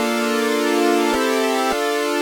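A sustained synth tone with one oscillator and slow chorus, imitating a Roland Juno 106, holds loud and steady with two brief retriggers partway through.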